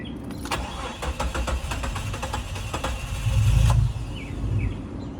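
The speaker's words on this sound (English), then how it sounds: "I'm going to turn it off and hopefully it restarts." A four-door Jeep Cherokee XJ with alarm trouble cranks with a rapid rhythmic starter chatter and then catches. The engine revs up loudly and drops back to a steady idle, close to the microphone, with no voices.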